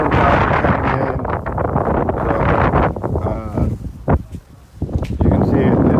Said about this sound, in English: You can see it's very windy, so it's really hard to do interviews